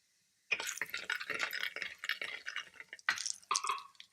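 Mustard seeds and fenugreek powder hit hot oil in a pan for Kerala-style fish curry, bursting into a close, crackling sizzle with sharp pops that continue to the end.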